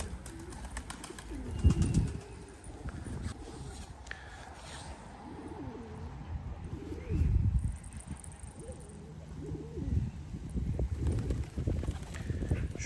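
Pigeons coo in a loft, several soft, rolling calls rising and falling at intervals, fairly close, over a quiet background with faint rustling and a few small knocks.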